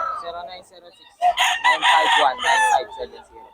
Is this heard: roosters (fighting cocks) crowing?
yes